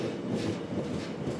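A train on the Donghae line bound for Yeongdeok rumbles steadily, heard from inside with a dense, even roll of wheels on track and no voices.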